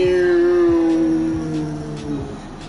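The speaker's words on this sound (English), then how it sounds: "Uh-oh, that's just a siren." A stadium siren at Heinz Field in the Madden 22 football video game wails loudly in a steady tone that slowly falls in pitch, with a faint repeating pulse underneath.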